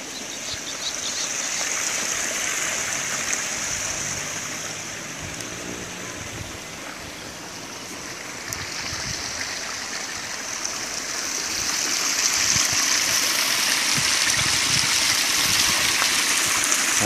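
A river stream beside rice fields rushes and gushes steadily, a broad, close, continuous wash of water that swells louder toward the end, with no voices.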